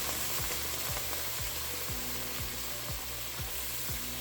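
Coconut milk hits a hot pan for a red curry with kaffir lime leaf, giving a steady, even sizzle with a faint regular ticking underneath and no talk.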